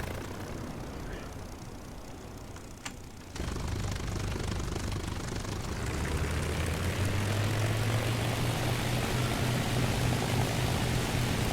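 A biplane engine starts and runs on the runway in the War Thunder flight simulator game. A quiet background gives way abruptly as the engine catches, then the propeller drone builds to a loud, steady roar.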